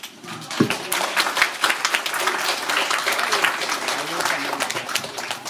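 Audience applause at a fan convention prize presentation ceremony, a sustained wash of many hands clapping that holds steady throughout, with scattered voices and cheers mixed in.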